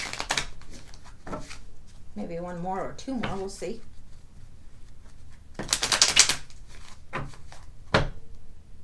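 Tarot cards being shuffled in several quick riffling bursts, close up, with a voice talking between the shuffles.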